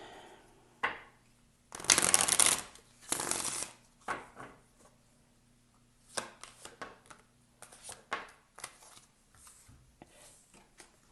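A deck of tarot cards being shuffled up close, two bursts of riffling followed by lighter taps and flicks as the cards are squared and handled.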